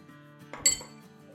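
A metal teaspoon clinks against a bowl while half a teaspoon of salt is added to flour for a green potato chip pizza dough, one brief bright clatter over a quiet kitchen.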